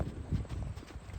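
A young horse being lunged for the first time, its hooves clip-clopping in a soft, uneven walking rhythm, faint and somewhat distant.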